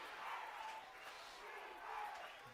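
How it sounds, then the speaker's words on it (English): A high school football crowd cheering Cardinals for a third-down stop, a steady distant roar that swells and falls with no pauses. "We hear the crowd starting to make some noise from Cardinals."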